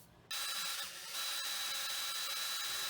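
A drill boring a 6mm hole into a lathe sheave, starting abruptly after a brief quiet moment and running as a steady, loud whirring grind with faint mechanical ticking.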